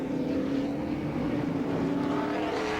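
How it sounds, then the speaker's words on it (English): NASCAR stock cars at the 1988 Budweiser 400 rolling back out of the pits onto the track, a steady, loud, broad engine drone with a low, constant rumble and no talk over it. "So the cars begin to move back out onto the racetrack."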